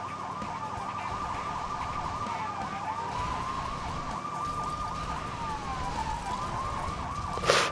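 Police car sirens wail in the Lego City Undercover video game, several wailing tones sweeping up and down continuously over a steady rumble of traffic and engine noise, with a sharp burst near the end.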